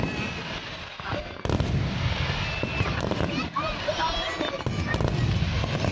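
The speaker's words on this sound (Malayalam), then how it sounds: "അടിപൊളി ഫയർ വർക്ക്സ് ആയിരുന്നു കേട്ടോ." Fireworks display at the Sheikh Zayed Festival in Abu Dhabi: a dense, continuous barrage of crackling bursts, booms and whistling rockets, with crowd voices mixed underneath.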